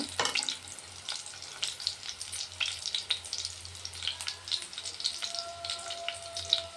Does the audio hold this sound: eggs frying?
yes